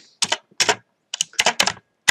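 Short bursts of keystrokes on a computer keyboard, clicking in several quick clusters with brief pauses between them, close and clear with no talking.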